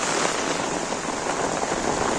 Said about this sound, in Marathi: पाऊस पण तसंच हा